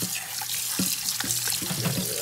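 Tap water runs steadily into a sink and bowl while raw chicken is rinsed, a close, continuous splashing flow with a few brief knocks and clatters of handling.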